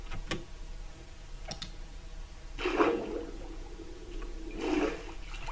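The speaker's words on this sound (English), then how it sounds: "then I fall down into the water" A Minecraft player character falls into water, giving two soft splashing bursts a couple of seconds apart over faint ticking clicks in a quiet game setting.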